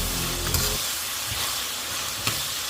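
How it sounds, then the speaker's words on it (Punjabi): Chopped onion stirred in a hot pan for chilli paneer, giving a steady bright sizzle with a few spoon scrapes against the metal; a low hum fades out early. "ਇਹਦੇ ਵਿੱਚ ਆਪਾਂ ਪਾਵਾਂਗੇ ਕਟਿਆ ਹੋਇਆ ਪਿਆਜ਼ ਆਪਾਂ ਚੰਗੀ ਤਰ੍ਹਾਂ ਹਿਲਾ ਲਾਂਗੇ"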